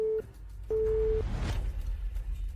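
A telephone call tone on a phone line, a short beep followed by a longer steady tone, clear and moderately loud, then a low muffled background.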